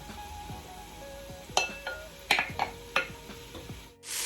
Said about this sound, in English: And now I'm going to add all my fresh herbs into this as well.